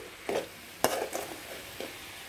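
Spoon scraping and stirring cabbage and chana dal masala curry in a pan, a few distinct scrapes and clacks with a soft sizzle underneath, close and fairly quiet.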